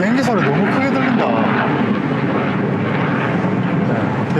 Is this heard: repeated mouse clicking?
no